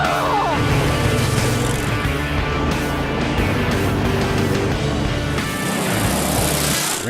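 Dune buggy engine drones loudly and steadily without pause while it drives across the sand of the Oceano Dunes.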